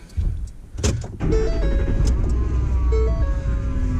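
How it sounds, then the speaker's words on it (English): A truck cabin carries a thin, steady mechanical whine over a low engine rumble, with a couple of short rising and falling tonal steps and some clunks and rustles near the start. "that whining in the background, that is not my power steering pump, not it"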